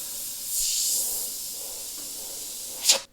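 Airbrush fitted with a MAC valve releases a soft, steady hiss of air for about half a second, then settles to a faint background wash before a short, sharper burst of spray near the end.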